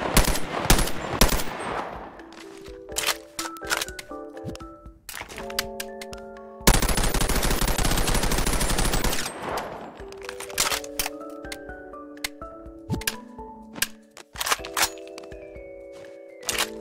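A CZ805 assault rifle fires in the VR game Bonelab, loud and close, with sharp single shots and bursts, a long sustained stream of automatic fire, and metallic handling clicks between volleys, with no voices.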